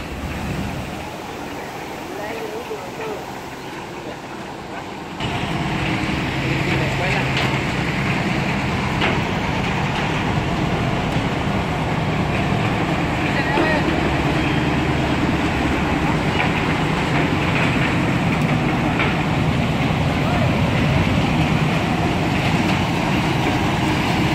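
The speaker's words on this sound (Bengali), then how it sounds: "কি বড় ট্রেন রে" A large train rumbles past at close range, its steady roar and rattling carriages starting abruptly and continuing loudly for over twenty seconds.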